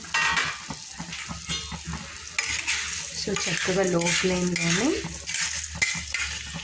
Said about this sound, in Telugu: సో ఇప్పుడు ఉన్న ఇంగ్రీడియంట్స్ అన్నీ కూడా బాండీలో వేసేసుకుందాం.